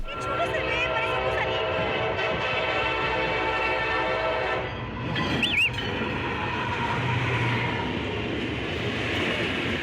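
An old train rushes fast through forest, a long steady rumble of wheels with a sustained horn tone that fades near the middle, then continued close rolling noise and a brief squeal.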